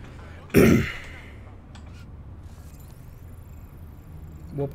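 A man with asthma clearing his throat once, loud and close, followed by a quiet stretch of low background hum from a Watch Dogs Legion game session.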